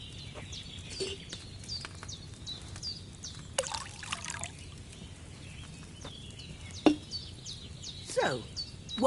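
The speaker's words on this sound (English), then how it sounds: "First, you have to pour the right base into the cauldron." Wine poured from a pitcher into a cauldron in Kingdom Come: Deliverance 2, a soft steady trickle set against faint ambient birdsong, with a few light clinks.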